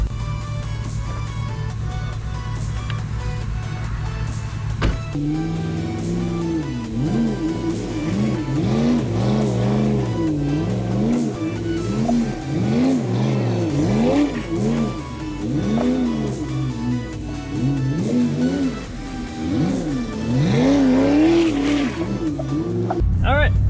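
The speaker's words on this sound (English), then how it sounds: "I did one more donut for the shorts" A semi truck engine revs and roars repeatedly in rising and falling bursts as it does donuts in snow, with tire spin noise, sustained and loud throughout after a brief idle start.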